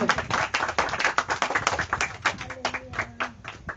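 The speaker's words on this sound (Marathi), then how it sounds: "स्वतःसाठी टाळ्या वाजवा." A church congregation claps for themselves: dense, rapid hand claps fill the space from start to finish, loud and crowded, with a voice briefly sounding partway through.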